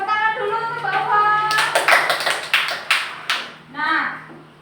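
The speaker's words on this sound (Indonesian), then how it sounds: "Tepuk tangan dulu untuk Mbak Uwa." A class gives applause for a student after her reading presentation, a burst of claps and taps about two seconds long that rises through the middle, with voices talking before and after.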